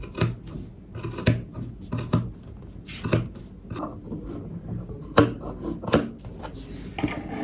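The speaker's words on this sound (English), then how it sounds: "Let's cut it into the fabric." Fabric being cut with scissors while making a reversible vest, a series of crisp snips and blade clicks at irregular intervals, close and moderately loud, with light handling noise between cuts.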